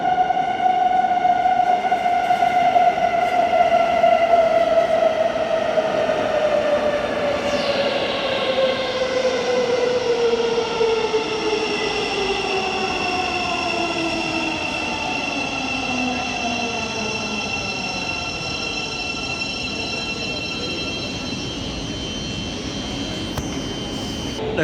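A train arrives at London St Pancras International, its loud descending whine of traction motors and brakes sweeping downward for about twenty seconds as it slows into the platform, with a steady station rumble underneath.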